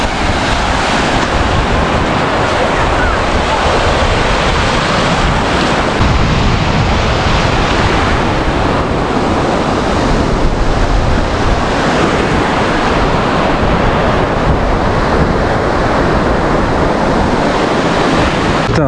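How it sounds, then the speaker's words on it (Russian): Sea waves breaking on a beach in Albania, a continuous loud roar of surf and wash with wind buffeting the microphone, steady throughout with no voices. "Да, сегодня такие волны хорошие на море."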